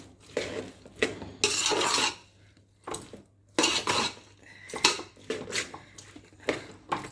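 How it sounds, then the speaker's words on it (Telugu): Spoon scraping and stirring a peanut chikki mixture in a metal pan on a switched-off stove, with uneven bursts of clinking and rasping strokes, fairly close and alone. "ఇది ఈవెన్గా కలుపుదాం అన్నమాట మనం దీనికి"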